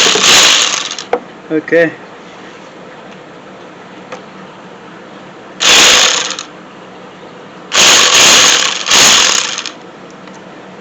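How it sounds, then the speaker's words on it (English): Ratchet wrench with a size 10 socket on a long extension loosening an AC compressor bolt on a 2009 Nissan Altima, heard as three bursts of close ratcheting clicks, with brief speech early on. "As we're using a size 10 sockets to remove the bolt"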